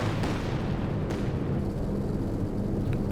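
Katyusha rocket barrage explosions in the Company of Heroes 2 strategy game, a dense continuous rumbling roar of blasts with low booming weight, loud and sustained for a few seconds.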